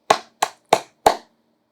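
Four sharp hand claps ring out close and alone, evenly spaced at a brisk pace, each a crisp snap that fades quickly.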